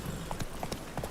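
Horse hooves beat in The Witcher 3 video game, a quick run of soft clip-clop thuds in uneven rhythm, quiet and brief under the game's low ambience.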